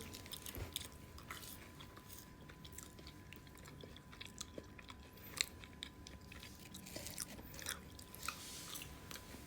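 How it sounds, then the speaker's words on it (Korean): Close, quiet crunching and wet chewing of french fries, with soft bites scattered across a long stretch and no talking. "감자튀김 좀 먹을까?"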